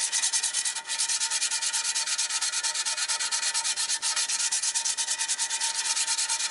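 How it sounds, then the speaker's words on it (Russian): Old sealant is being sanded off the timing chain cover of a 2-litre Ford Mondeo, a loud, close, continuous abrasive rubbing with rapid rhythmic strokes and no voices. "Вот где под наждачку попадает старый герметик, он его как бы размазывает. Ну, но все-таки стирает."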